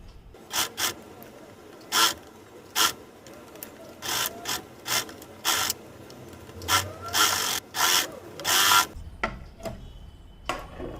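Sewing the seam of a newborn baby cap: a series of short rasping mechanical bursts in irregular rhythm, close up, separated by quieter gaps and ending in a softer stretch.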